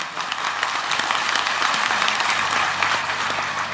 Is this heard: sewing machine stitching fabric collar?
no